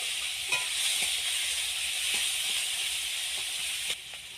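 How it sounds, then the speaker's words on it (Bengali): Two large onions, diced into cubes, lightly frying in a pan with a steady, even sizzle and a few faint clinks of stirring, then a sudden drop near the end. "আর আমি আগে থেকে দুটো বড় সাইজের পেঁয়াজকে চৌকা চৌকা করে কেটে রেখেছিলাম ওটা দিয়ে দেব হ্যাঁ, হালকা ভেজে নেব"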